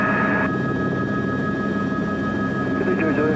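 Training helicopter sitting on the ground before departure, a steady loud rotor and engine roar filling the whole stretch with a constant hum, radio-style talk and voices mixed over it.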